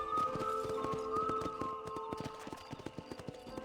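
Horse hooves in the video game Red Dead Redemption, clip-clopping in a steady walking rhythm on firm ground, close and clear, joined by a faint tonal musical layer.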